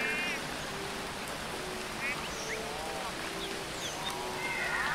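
Steady rain falls in the video game Phoning Home, a soft continuous hiss with faint chirping tones above it and a quiet voice speaking in French.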